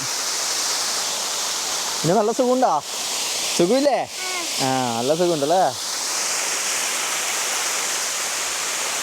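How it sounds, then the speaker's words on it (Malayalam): Karakkund waterfall in Kannur roars as a loud, continuous rush of falling water heard up close, with people talking briefly over it. "വെള്ളച്ചാട്ടത്തിൻ്റെ അടുത്തെത്തി"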